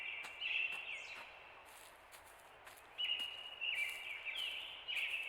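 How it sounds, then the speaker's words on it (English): Chirping birds at morning in a rural riverside town, rendered as game ambience: thin high tweets and short trills come in bursts over a quiet background, some close and bright, with a brief gap partway through. "birds chirping to signify the morning"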